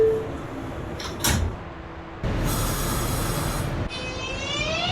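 A New York City subway 2 train, an R142, approaches the station with loud rumbling, a brief burst near the start, then a steady wash of rolling noise and rising high-pitched wheel tones.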